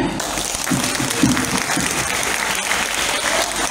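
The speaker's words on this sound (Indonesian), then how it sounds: "Tepuk tangan." A crowd of young people at a gathering claps continuously in a dense, steady patter of applause that holds at an even loudness throughout.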